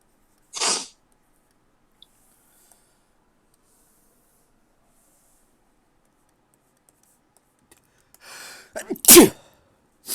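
A single sharp sneeze bursts out near the start, followed by a long quiet stretch, then a cluster of louder noises toward the end.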